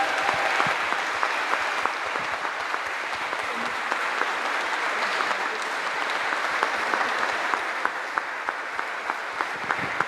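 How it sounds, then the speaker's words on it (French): An audience applauding at a thank-you gathering, steady hand clapping with crisp individual claps standing out, moderately distant and sustained for about ten seconds with no talking. "que l'on peut applaudir"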